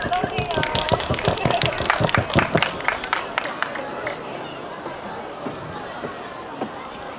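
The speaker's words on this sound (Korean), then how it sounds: "큰 박수가 필요합니다." An audience at a public library talk during the 2018 Seongbuk book festival in Korea gives loud, brisk applause for several seconds, then it quickly dies away to quiet room murmur.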